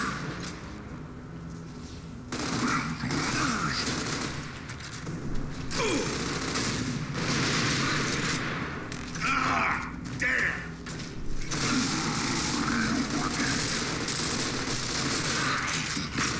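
Gunfire from the Gears of War video game crackles in repeated bursts throughout, dense and continuous game combat noise with mechanical clatter, and a voice briefly speaks over it.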